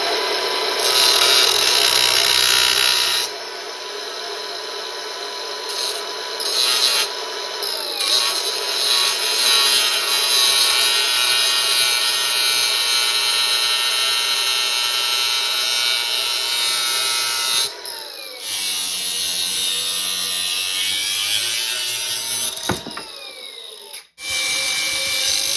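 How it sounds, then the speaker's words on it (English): Wood pieces for an angle kit are cut with a power saw, giving a loud, sustained buzzing cut for over twenty seconds with shifting pitch and a brief dip near the end as the cut finishes. "I can cut this one piece out and then make two 2-inch pieces out of it."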